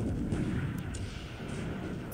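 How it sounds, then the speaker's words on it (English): Torpedo hits and explosions in the War in the Pacific naval strategy game, a continuous heavy low rumble of blasts rolling without a break, loud and alone. "Finally, some Japanese surface torpedo hits."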